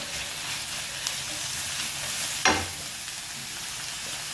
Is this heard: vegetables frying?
yes